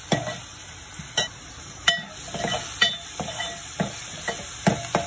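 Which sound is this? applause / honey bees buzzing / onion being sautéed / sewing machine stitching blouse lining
onion being sautéed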